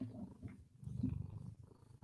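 A cat purrs close to a microphone during a live podcast episode, giving a low, soft, rumbling purr that pulses steadily for about two seconds with no talk over it.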